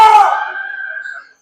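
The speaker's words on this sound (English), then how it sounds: "it's been the same guy on the Upper Dublin student section who's just been screaming all night" A lone fan in the student section at a high school boys basketball district semifinal lets out one loud, short scream that trails off and stops.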